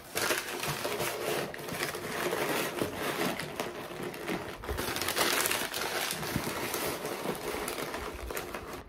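Packing paper crumpled and crinkled by hand while boxing up orders with condiment cups, a steady dense rustling and crushing that runs continuously and fairly close throughout, with no talking.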